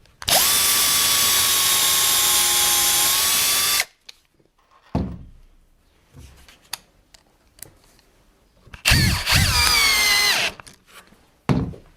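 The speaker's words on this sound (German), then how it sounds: "Und dann schrauben wir es fest mit 2 Schrauben" A power drill drives screws into wooden furniture during assembly, with one long steady whirring run, then short bursts and taps, and a second loud run that slows and stops, with no talk.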